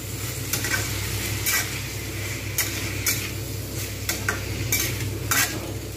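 Potato and long beans stir-fried in a pan with a splash of water, a steady low sizzle under repeated sharp scrapes and clinks of a spatula against the metal, close and moderately loud with no voices.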